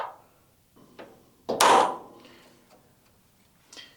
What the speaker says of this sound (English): Thought maybe we could get these out with a chisel, dig into the side of it, and sometimes you can get them to turn